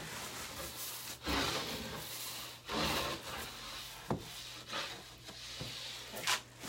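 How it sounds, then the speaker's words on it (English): A scrub brush rubs over a freshly poured epoxy countertop surface in short, rough strokes, several separate passes with pauses between them, fairly quiet and close, with no talking. "I'm going to give it a little scrubby with my scrub brush."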